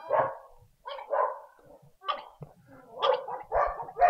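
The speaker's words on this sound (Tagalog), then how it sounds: "Papasok yung tahol mo." A dog barks repeatedly at close range, irregular bursts of loud barks with short gaps between them and no talk over them.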